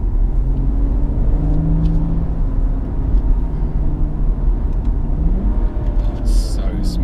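A BMW M140i drives along with a deep, continuous engine and exhaust drone, steady rumble with slowly shifting tones inside the cabin, and a brief sharp noise near the end.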